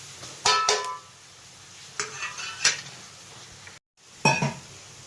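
Chili powder stirred into fish curry masala in a pan for a Kerala-style fish curry, with a few distinct bursts of metal spoon scraping and clinking against the pan separated by quiet gaps.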